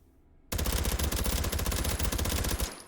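Suppressed Uzi Micro fired in the VR shooter H3VR with the stock out and a big magazine: a sudden sustained full-auto burst of rapid, dense shots lasting about two seconds, close and loud, then stopping.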